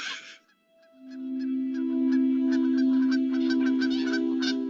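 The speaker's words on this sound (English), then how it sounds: "Sorry, bird went by." Outdoor bird calls passing nearby during a Christmas Bird Count lecture in a backyard setting: brief honking, goose-like calls sound at the start, followed by a steady droning tone with a run of short chirpy notes over it.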